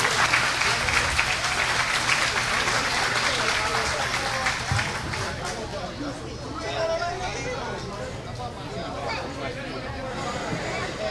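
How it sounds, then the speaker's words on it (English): An audience applauds steadily at a fire department awards ceremony in Baton Rouge, with a dense, even patter of clapping throughout and crowd chatter mixed in beneath it. "those gentlemen saved the life of one of our own brothers, and they deserve a round of applause too"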